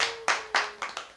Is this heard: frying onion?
no